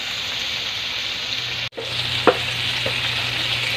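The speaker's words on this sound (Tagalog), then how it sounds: "pabayaan muna natin lumambot ang kamatis para i-press natin ng kaunti at lumasa" Tomatoes softening in hot oil in a pan, a steady loud sizzle broken by a brief dip, then a couple of sharp clicks as they fry on.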